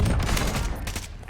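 A short burst of rapid gunfire rattles in a Call of Duty Warzone match at Fortune's Keep, loud and dense with overlapping shots.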